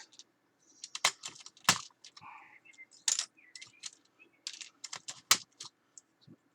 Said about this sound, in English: I am currently stripping the keyboard off of my Amiga. The keys off my Amiga.